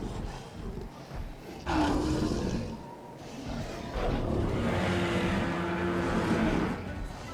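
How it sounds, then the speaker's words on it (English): A Majungasaurus in the video game Jurassic World Evolution lets out deep, growling bellows during an arena fight: one short roar, then a longer, louder drawn-out call that fills the second half. "These guys have surprisingly deep bellows, considering I think they're a little smaller than the Carnotaurs"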